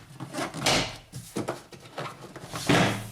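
A door panel pops loose from a 2000 Honda Civic door, giving several sharp plastic clips snapping and rattling with thumps, close and loud, the last crack the strongest.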